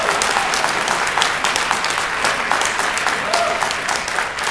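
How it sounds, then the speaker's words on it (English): Dense applause fills a gubernatorial debate hall, loud and sustained throughout with no break. "You may want to wait to clap after."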